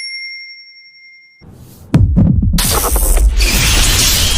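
A bright notification bell chime rings alone, holding a clear sustained tone for about a second and a half before dying away, after which a loud, busy swell of music and whooshing effects takes over.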